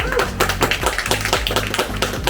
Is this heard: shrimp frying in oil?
no